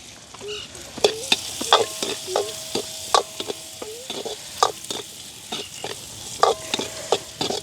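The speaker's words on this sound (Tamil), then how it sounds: "இந்த நெய்யுக்குள்ளேயே நாங்கள் பிளம்ஸையும் போட்டு பொரிச்செடுப்போம்." Plums frying in ghee on a village stove for kesari, soft sizzling under a series of sharp scraping stirs and clinks of a spoon against the pan, irregular and close.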